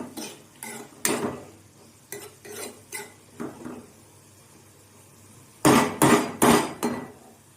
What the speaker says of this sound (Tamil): இப்போது உப்பு சேர்த்து கிண்டி விட்டுடலாம்.